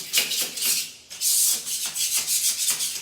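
Epoxy tile grout being rubbed off a bathroom wall tile surface, a steady series of close, hissy scrubbing strokes in a quick back-and-forth rhythm with a brief pause midway.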